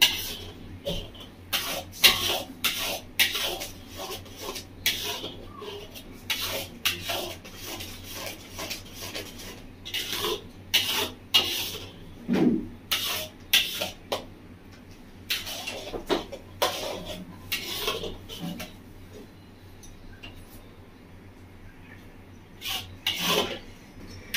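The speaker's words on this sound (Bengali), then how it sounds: "বন্ধুরা নাড়া বন্ধ দিলে হয়নি, এগুলোই নাড়তে থাকতে হবে।" Mango kheer is stirred in a pot with a spoon, giving repeated rasping scrapes in an uneven rhythm, close and moderately loud, with no talk.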